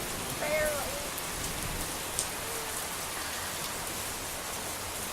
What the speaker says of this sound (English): that's how much rain is coming down over there